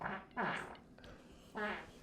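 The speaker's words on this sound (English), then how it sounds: "Let's talk about that fart." A fart rumbles out in a few separate blasts, the first two close together and a third after a pause, loud and close.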